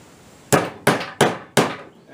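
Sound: hammering a nail through a cap

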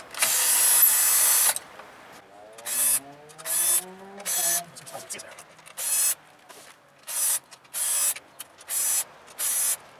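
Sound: removing Torx screws from Tesla Model S MCU

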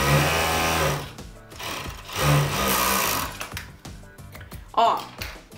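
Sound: sewing machine stitching a child's coat

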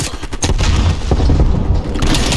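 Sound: shotgun fire in video game Call of Duty Black Ops Cold War

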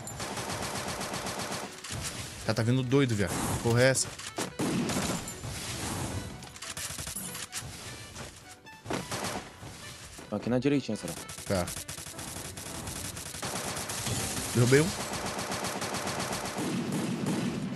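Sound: gunfire in the video game Free Fire

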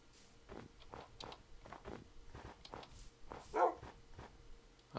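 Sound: dogs barking in a video game

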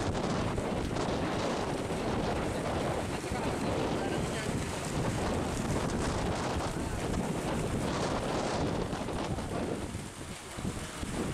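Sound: wind blowing into the microphone

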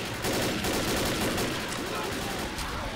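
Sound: gunfire from the video game Left 4 Dead

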